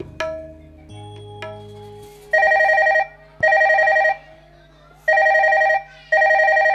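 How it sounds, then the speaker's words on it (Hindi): A telephone ringtone repeats in four loud bursts with short gaps, after an opening of faint tones and a low hum; no one speaks. "घंटी तो जाते राधा कॉल किसे नहीं उठाए भाई"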